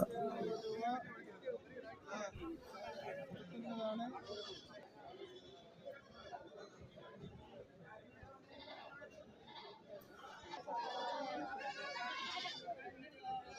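Goats bleating at a busy goat market, several animals calling repeatedly at varied distances over a steady murmur of crowd chatter and nearby talking.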